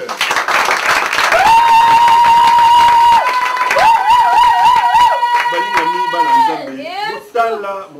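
A Congolese church congregation applauds and cheers loudly, with a sustained high ululating voice wavering over the clapping for several seconds before tapering off.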